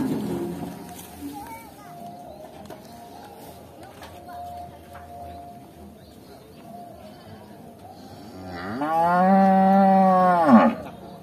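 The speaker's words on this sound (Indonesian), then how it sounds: "selanjutnya yang ketiga sapi hitam" A black cow gives a long, loud, near moo near the end, with a rising and falling harmonic tone, after a stretch of quieter farmyard ambience with faint distant lowing and a voice talking early on.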